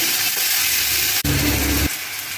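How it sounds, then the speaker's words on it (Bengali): Pieces frying one at a time in a little hot oil, a loud, steady close-up sizzle that cuts out for an instant and then resumes, with a deeper rushing layer for a moment. "আর এগুলো একটা একটা করে আমি এবার ফ্রাই করে নেব।"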